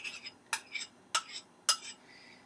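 Spoon or utensil stirring shallot, lime and salt into mashed avocado for guacamole, giving four sharp scraping clicks against a bowl at a steady pace, close and fairly quiet, with no talking.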